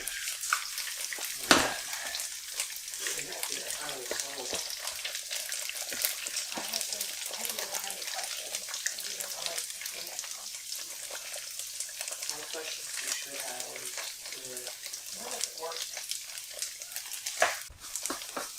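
Eggs frying in a pan for a weekend breakfast, a steady close crackling sizzle with sharp pops, under occasional quiet talk.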